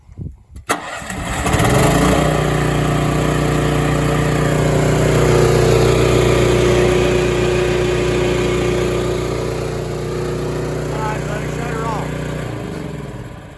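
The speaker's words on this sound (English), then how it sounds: "all right, Kevin, let's start this air compressor up" The engine of an air compressor and generator combo unit mounted on a service truck cranks briefly, catches and settles into a loud, steady running drone that continues for over ten seconds, with faint talk underneath.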